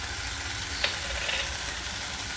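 Mustard seeds and ridge gourd frying in a pan, a steady dense sizzle with a couple of faint stirring clicks, close and continuous.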